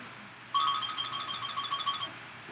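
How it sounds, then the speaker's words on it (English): New iOS 7 ringtone playing on an iPhone, a short bright melodic chime pattern of repeated tones lasting about a second and a half, clear and alone against quiet background. "there's new ringtones for iOS 7, by the way, too."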